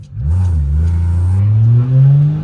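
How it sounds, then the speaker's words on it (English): A single-turbo BMW 335is engine revs at full throttle with the dump valve recirculating, a loud, close, rising drone that climbs steadily in pitch, then dips and climbs again. "right now, the dump is recirculating, so right now it's kind of quiet, obviously at full throttle"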